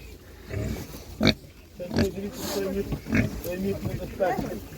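Pigs grunting and squealing close by at an outdoor animal market, with people talking over them in a noisy setting.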